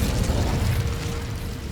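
An Incendio fire spell cast in Hogwarts Legacy, a short loud whooshing burst of fire with a low rumbling body that fades slightly, heard alone.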